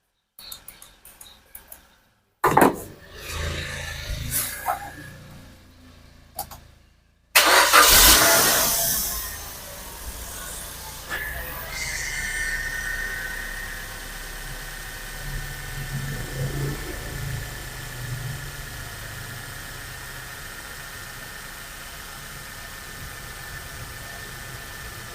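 Suzuki Swift engine cranks and catches after brief handling noises, then settles into a steady, moderately loud idle hum that runs to the end.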